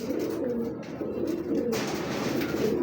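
Racing pigeons coo in a steady, close chorus of low, rolling calls, continuing throughout with overlapping voices.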